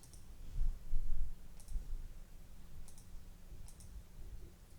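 Mouse clicks while a reference is added in document software, heard as a few faint, sharp clicks spread out in pairs over low background hum.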